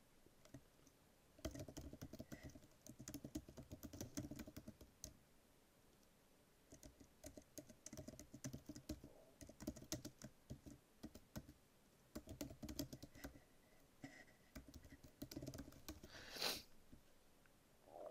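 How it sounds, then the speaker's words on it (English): Quiet, close typing on a computer keyboard: fast irregular key clicks in bursts with brief pauses between them, continuing for the whole stretch. "we're going to type in the date"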